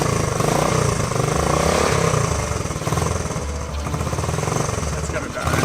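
Old Honda Trail 90 motorcycle engine, revived after decades stored in a barn, idling with a steady loud rattling chug throughout, with people talking over it.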